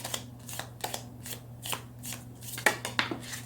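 Tarot cards are shuffled close by in a rapid series of soft, papery riffles and flicks, with a low steady hum behind them.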